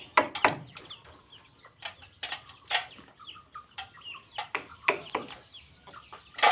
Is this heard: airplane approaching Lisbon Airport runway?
no